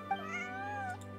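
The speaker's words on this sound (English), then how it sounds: "She's saying meow twice?" A cat's drawn-out, rising and falling meow from Genshin Impact, one clear sustained call heard alone over a steady low game hum.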